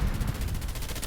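Rapid, loud gunfire from a sniper in a shooter video game, a dense run of repeated shots over a heavy low rumble with no gaps.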